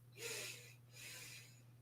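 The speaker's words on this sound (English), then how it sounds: "So 2 sniffs." Two sharp nasal sniffs during a Pilates breathing exercise, close and soft, each a brief breathy burst in a row, over a low steady hum.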